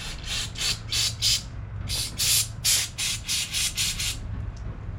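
Carb cleaner sprayed into a carburetor passage in short, sharp hissing bursts, about ten in quick succession with brief gaps, close and fairly loud over a low background hum.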